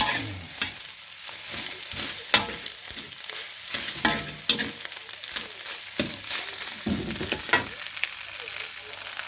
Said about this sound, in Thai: ผัดน้ำมันหมูอันนี้กันหน่อย